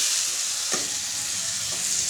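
Steady close sizzle of vegetables being sautéed in a pan with rock salt, with a couple of brief scraping stirs over the constant frying hiss.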